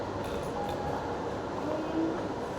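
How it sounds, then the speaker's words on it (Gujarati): A train pulling in produces a steady, continuous rumble with a faint rattling hiss, close and even in loudness throughout, with no voices. "ટ્રેન આવી"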